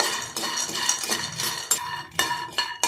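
Peanuts dry roast in a pan, a continuous metallic scraping and rattling as a utensil stirs them, with several sharper clanks against the pan.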